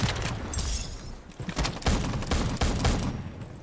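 Rapid bursts of gunfire in a Roblox shooting video game, loud and dense, with overlapping shots in an irregular rhythm throughout.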